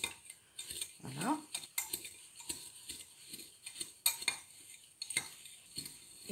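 Homemade dishwasher powder mixture being stirred in a bowl, a steady run of scraping and clinking strokes with a utensil, close and fairly quiet, with no talking.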